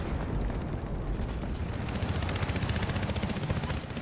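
A charge is detonated in the video game Battlefield Hardline, a loud, continuous, rumbling blast with crackling debris that keeps churning throughout, with no voices.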